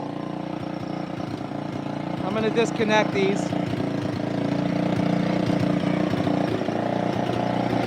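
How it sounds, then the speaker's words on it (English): Big Red's engine idles a little high, a steady mechanical drone running throughout at moderate level, with someone talking briefly over it. "She's idling a little bit high."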